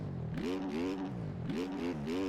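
A 450 motocross bike engine on a Supercross track in MX Bikes: a buzzing, harmonic engine note rising and falling through two quick rev swells, steady and close.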